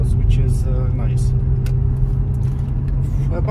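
A 2006 Skoda Octavia vRS with its rear muffler deleted, engine rumbling loud and close while downshifting, a deep, throaty drone that holds steady with slight surges.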